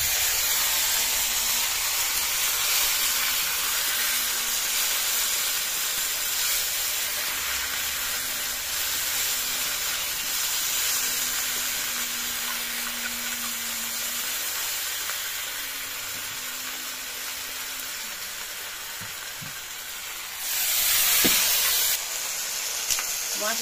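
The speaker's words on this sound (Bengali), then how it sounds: "মশলাটা ধরে ভাজা হোক" Spice paste with turmeric sizzles in a pan while cooking a village-style potato and pointed gourd curry: a steady close frying hiss with a faint low hum, then a brief louder clatter near the end.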